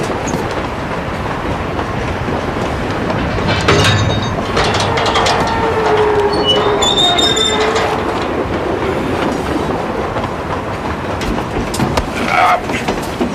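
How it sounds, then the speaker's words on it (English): Train running on rails, with steady rumbling and rhythmic clickety-clack from the railroad cars plus metallic squeals and rattles, loud and close throughout. "This train is bound for glory."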